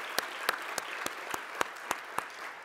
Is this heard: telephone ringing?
no